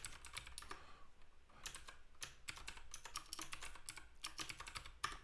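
Fingers type on a computer keyboard in quick irregular bursts of soft key clicks with brief pauses between runs, fairly quiet and close, with no speech.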